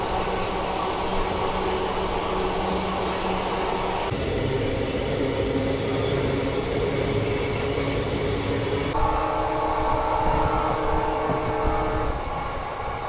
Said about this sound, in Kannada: ಹುಬ್ಳಿಯಿಂದ ವಿಜಯವಾಡಗೆ ಹೋಗುವ ಎಕ್ಸ್‌ಪ್ರೆಸ್ ಟ್ರೈನ್ ಕ್ರಾಸಿಂಗ್ ಅದು